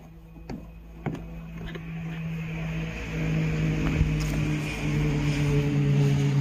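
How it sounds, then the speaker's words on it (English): A green motorbike passes on a road near a rural wood pile, its engine hum steadily growing louder over a few seconds amid faint wind, with a few light knocks early on. "a pretty green motorbike just went by"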